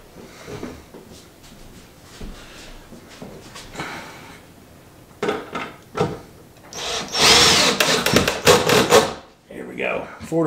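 A power drill whirs in short bursts, then runs longer and louder as it drives a screw into a deck flower planter, with people talking around it.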